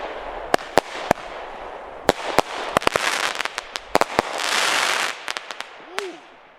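Rapid bursts of small consumer fireworks fired at angles, crackling and popping, a dozen or more sharp cracks at irregular intervals over a hissing wash, with a brief voice near the end.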